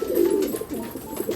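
A Rajshahi pigeon coos indoors, a short series of soft, throaty low pulses close by, the first coo strongest and later ones fainter, with no talking.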